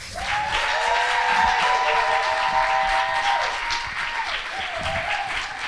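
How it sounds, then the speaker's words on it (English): Audience at a music summit in Alaska clapping loudly for a woman named Marian, dense sustained applause with a high sustained tonal sound layered over it partway through. "I want you to clap much louder and much harder for Marian."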